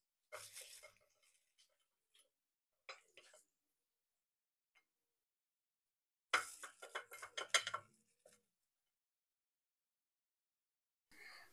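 Metal utensils clink against a pan and dishes while double-fried french fries are lifted out, in two short clusters of light clatter separated by near silence, with a faint final tap.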